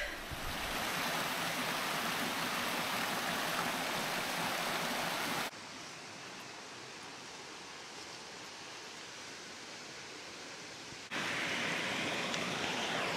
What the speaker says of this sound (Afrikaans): daar's 'n kaskada, 'n waterval 100 meter van die pad af